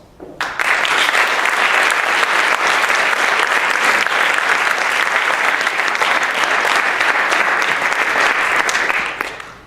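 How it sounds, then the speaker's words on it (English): Loud, sustained audience applause for a marching band at a recognition event, a large crowd clapping continuously for about nine seconds before quickly dying away. "Please give them a round of applause"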